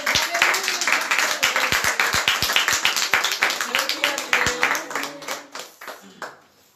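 A church congregation of young people claps and applauds together, a dense run of sharp hand claps, loud and close, tapering off toward the end while voices speak over it.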